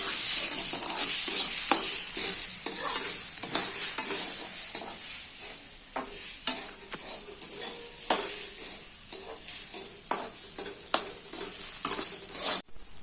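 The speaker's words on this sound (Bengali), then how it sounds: "এইভাবে অল্প লাল হওয়া পর্যন্ত সুন্দর করে চালগুলো ভেজে নিব" Gobindobhog rice fries in a pan for pilaf under a bright, steady sizzle, with repeated scraping strokes of a spatula stirring the grains close by.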